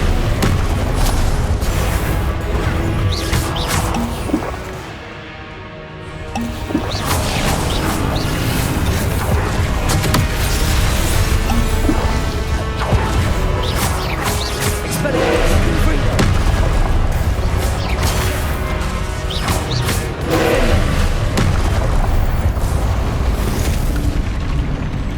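Confringo fire spell explosions in Hogwarts Legacy, played on PC: loud, dense booms and blasts layered with battle noise almost throughout, with a short quieter dip partway through.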